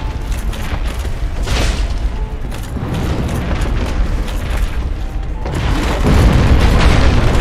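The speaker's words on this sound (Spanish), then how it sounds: "esa explosión no debería haberme alcanzado" Loud, continuous booming and rumbling from an explosion in Dark Souls Remastered, with dense low crackle that swells louder near the end, no voices.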